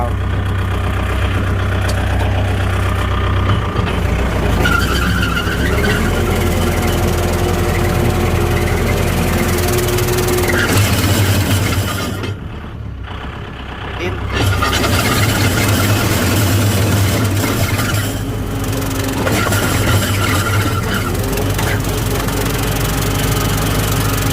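A Diamond-brand grass-cutter engine runs loud and close for nearly the whole stretch while cutting rice stubble in a field, with a steady droning roar that dips briefly midway before surging back.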